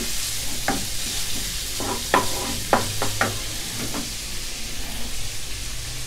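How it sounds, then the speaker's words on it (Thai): Mala pork belly stir-fried in a wok, with a steady close sizzle and repeated sharp scraping and clacking strokes of the spatula against the pan throughout. "ผัดจนเขาสุกเลยนะครับ"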